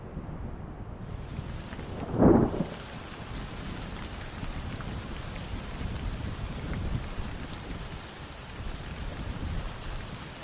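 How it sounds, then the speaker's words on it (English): Steady autumn rainfall over open grassland forms a constant wash. A brief, louder rumble of thunder swells about two seconds in, with no voices. "The first rains of autumn have returned some greenery to the grasslands"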